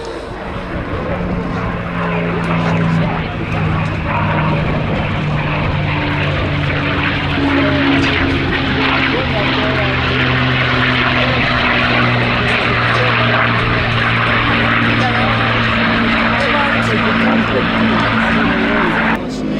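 Heavy multi-engine propeller warbird roaring steadily overhead during an airshow flying display at Little Gransden, its loud droning engine tones sustained throughout with a commentator's voice over the public address underneath.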